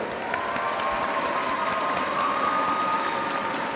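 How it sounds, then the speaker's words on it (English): Steady applause from an audience at a school graduation ceremony, a continuous dense wash of clapping holding at an even level throughout. "A big round of applause for these two distinguished individuals."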